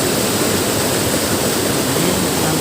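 The main waterfall at Kedung Pedut in Kulon Progo thunders as a loud, steady broadband roar of heavy falling water, close by and unbroken throughout.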